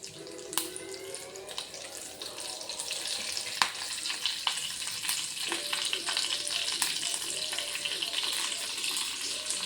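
Curry leaves crackle in hot oil for a tempering, a continuous close sizzle with scattered sharp pops and a few stirring sounds, alone without talk.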